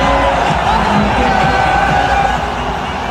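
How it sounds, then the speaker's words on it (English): A cricket stadium crowd roars after a wicket falls, a broad steady wash of cheering and noise held at high level for about three seconds. "That gets the crowd going."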